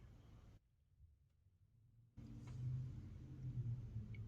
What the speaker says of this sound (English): Sorry if you hear the car driving by with obnoxious music right now.